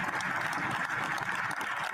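Parliamentary applause during a sitting on a motion to revoke an emergency declaration, a steady, dense wash of clapping filling the whole stretch at even loudness.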